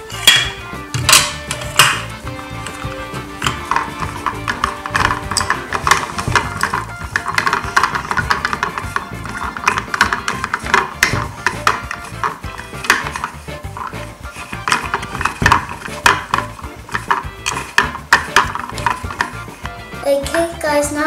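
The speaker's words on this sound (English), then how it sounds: "now I'm going to put the lid on and stir the Orbeez" Orbeez water beads being stirred inside a lidded container, a steady busy rattle and clatter of many small knocks against the container walls running throughout, fairly close and continuous.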